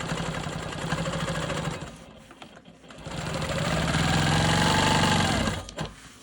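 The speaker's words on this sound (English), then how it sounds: "I'm going to go ahead and quilt this orange square in the center." A Quilt Maker Pro 20 sewing machine quilts an orange square at the center of a rainbow block, with a close, loud, continuous motor hum and needle drive that dips briefly midway, then runs on steadily.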